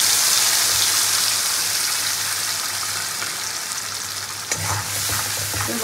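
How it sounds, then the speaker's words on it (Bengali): Ground spice paste with poppy seed is tipped into hot oil over fried tempering spices for a taro-stem dal. It sizzles loudly and continuously, with stirring throughout and a sharper burst of spatter late on, close up and with no talk. "এবার বাটা মশলাটা দিয়ে দিলাম।"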